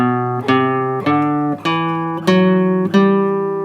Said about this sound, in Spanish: El modo dórico suena así.